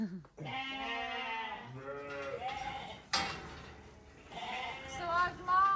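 Ewes bleat on a Peak District sheep farm, several close, loud calls overlapping one after another with a brief knock in between.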